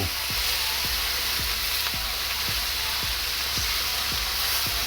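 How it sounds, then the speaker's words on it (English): Tofu searing in a hot pan, giving a loud, steady, close sizzle with soft regular ticks repeating about twice a second. "And I'm just going to sear the tofu"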